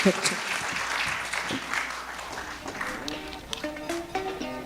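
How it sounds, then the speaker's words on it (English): An audience at a maritime security dialogue applauds the panelists with steady, moderate clapping. A voice speaks over it, and a few tonal notes surface near the end. "please give a warm round of applause to our panelists"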